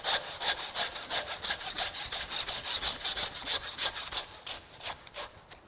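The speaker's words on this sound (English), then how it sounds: "Then with the handsaw, slice through the vertebrae between that 4th and" A handsaw cuts through beef chuck vertebrae between the fourth and fifth ribs of a carcass, with quick, even back-and-forth strokes rasping close and clear, about three or four strokes per second, with no talking.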